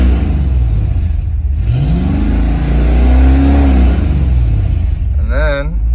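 Foxbody Mustang V8 with a Terminator X-controlled 2-step revving loud and close, its pitch sweeping up and holding, with a person speaking briefly near the end.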